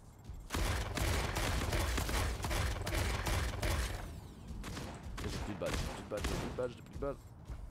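Mech weapons firing in the video game Mech Arena, a dense loud burst of gunfire and mechanical clatter for several seconds that eases into scattered shots and clanks, with no talk over it.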